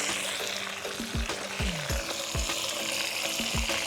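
Chopped onion sizzling loudly in a pot of rendered fat from browned meat, cooked outdoors; steady bright frying hiss with repeated low scraping stirs of a spoon and no talking.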